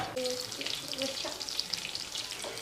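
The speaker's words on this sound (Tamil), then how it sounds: "கத்திரிக்காய் தீயவும் விடக்கூடாது தீயாமல் நல்லா அழகாக வறுத்து வதக்கிறதுலே அது வெந்து போகும்" Small stuffed brinjals frying in a pan on medium flame, crackling and sizzling up close with pan shakes that roll the brinjals, a few brief tonal scrapes under a steady frying hiss.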